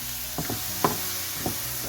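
Curry powder being stirred into a fenugreek curry in a pan, a few soft scraping strokes and light knocks of the spoon over a faint steady sizzle.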